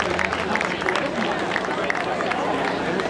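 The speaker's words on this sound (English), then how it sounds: "Big round of applause for Molly Rennie" Crowd at an outdoor summer bouldering competition in Bend, Oregon claps and cheers for climber Molly Rennie, a dense, steady wash of applause with voices mixed in throughout.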